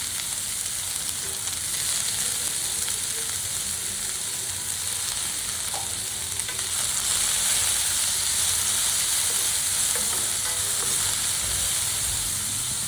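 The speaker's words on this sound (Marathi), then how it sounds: "लसणाचा कलर चेंज होतोपर्यंत आपल्याला हे तेलात परतून घ्यायचं आहे" Garlic sautés in hot oil with a dense, continuous sizzle and hiss close by, swelling slightly louder partway through as it is stirred, with no talking.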